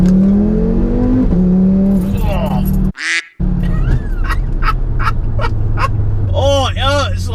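Audi 8P RS3 with a 520 bhp engine pulling hard through second gear, its loud sustained engine roar broken by a brief gap, with excited voices and shouts from inside the cabin.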